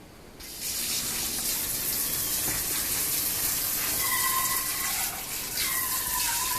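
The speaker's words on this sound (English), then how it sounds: "So I'm gonna go ahead and rinse the spaghetti." Cooked spaghetti is rinsed under a running kitchen tap, a steady close hiss of water gushing into the sink that starts abruptly and keeps flowing, with a few faint clinks and no talking.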